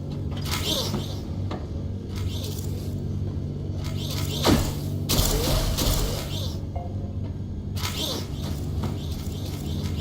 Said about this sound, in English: You kind of hear that jamming noise. That is what happens when a rotator is stuck.